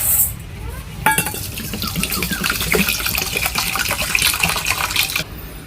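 Water gushes into a bowl of uncooked rice to soak it, a steady splashing fill with a few clinks against the bowl, starting abruptly and running for several seconds, close and fairly loud.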